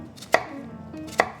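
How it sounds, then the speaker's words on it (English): A knife chops an onion on a board, giving two crisp, close cutting knocks spaced nearly a second apart. "I hate cutting onions"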